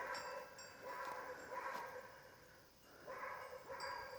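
Repeated barking of a hunting dog in a village in Bartın, Turkey, loud and close, several sharp barks spaced unevenly with a brief pause midway.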